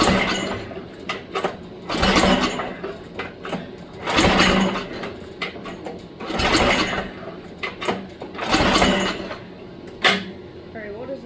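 An 8hp Spirit snowblower engine is pulled over by hand in repeated bursts of whirring and clattering, about five pulls in a row with brief pauses between them.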